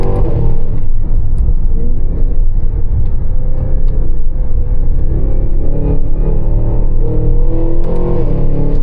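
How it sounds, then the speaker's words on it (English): A Cadillac Escalade V SUV engine roars loudly and close, driven hard at full throttle through its gear shifts. The deep rumble continues without a break and no one speaks. "Listen to the shift sound. It sounds like a rifle going off in between shifts"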